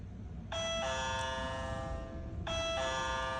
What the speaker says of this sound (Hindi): कोई हमारे घर पे आया है और डोरबेल प्रेस करता है